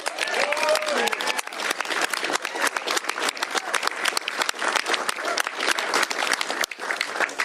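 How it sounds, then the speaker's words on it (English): Audience applause at a state bill signing, dense sustained clapping from a room of people that stays loud throughout, with a few voices and cheers mixed in. "give him a round of applause for his hard work"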